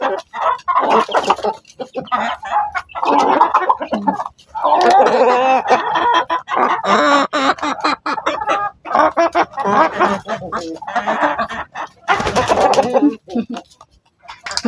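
Pet chickens cluck and chatter close by while being fed coconut, a busy, irregular stream of clucks and squawks in bursts with brief pauses.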